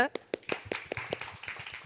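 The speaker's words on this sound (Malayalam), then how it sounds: "ഞങ്ങളൊരു ബിഗ് ക്ലാപ്പ് തരികയാണ്" A few people clap in a quick, uneven rhythm, sharp close handclaps repeating under soft talking.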